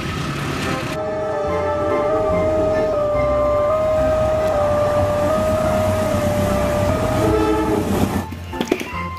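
A CC206 locomotive passes close by, its loud steady rumble and wheel noise sustained throughout, with a long tonal horn-like whine running through the middle and the sound thinning out near the end.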